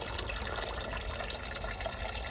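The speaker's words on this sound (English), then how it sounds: "And here we go. All the water's coming in." Water pouring and gushing steadily into a yard drainage pump station basin, a constant close hiss of running water with no talk.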